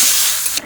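Water poured into a hot pan of fried radish, potato and stalk curry, producing a brief loud steamy hiss that fades slightly over less than a second.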